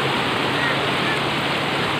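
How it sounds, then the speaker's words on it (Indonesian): River water flows in a steady, even rush with no pauses. Women washing clothes in the river are nearby. "airnya juga mengalir cukup, gak terlalu butek juga ya, gak terlalu kotor"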